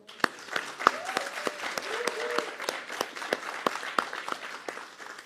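Applause from the audience at a formal academy ceremony, an inauguration of a pharmaceutical sciences academy board, with a steady wash of clapping and a few sharper nearby claps standing out over about five seconds.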